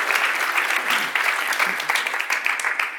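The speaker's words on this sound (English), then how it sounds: "please give them a very warm round of applause and a big welcome." A conference audience gives a warm round of applause to welcome speakers from Docker, steady close clapping filling the room from start to finish without anyone talking over it.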